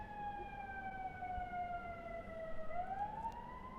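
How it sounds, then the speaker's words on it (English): An ambulance siren wails from a distance as it passes, its pitch sliding slowly down and then swinging back up. It is faint but clear, with no voices. "I think that might have been an ambulance."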